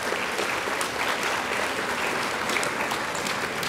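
Audience at a junior-division science fair awards ceremony giving steady, dense applause that fills the room throughout.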